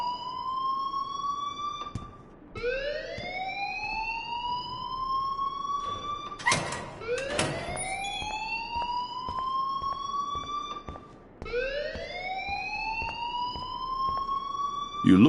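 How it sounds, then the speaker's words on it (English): A blaring alarm rings inside the video game Life is Strange: a repeating rising electronic wail with harmonics, cycling about every four seconds, loud and steady, briefly broken by clattering hits midway. "please turn off that alarm since that's your job"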